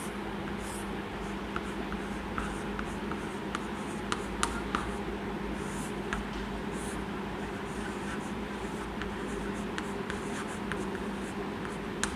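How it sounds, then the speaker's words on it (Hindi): Chalk or marker scratching words onto a classroom board, with steady light taps and strokes over a constant background hum, fairly faint and without speech. "मैं यहाँ पे लिखती हूँ।"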